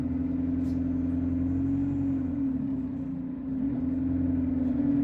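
A Gemini 2 double-decker bus on the U10 route in Hillingdon, registration LK62 DPY, runs with a steady low engine drone and a strong tonal hum that dips briefly and recovers, heard from on board without talk.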